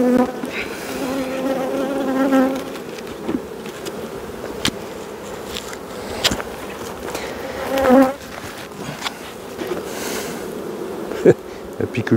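Honey bees buzzing around an open hive while a beekeeper works the colony, a dense, continuous drone with individual bees swelling louder as they pass close, plus occasional light knocks and handling sounds.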